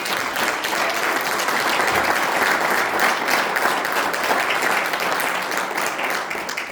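A church congregation applauds during a sermon, a dense, sustained roar of many hands clapping together, loud and even throughout.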